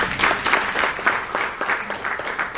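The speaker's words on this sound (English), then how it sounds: "A round of applause." An audience claps steadily, a warm wash of applause with no voices over it.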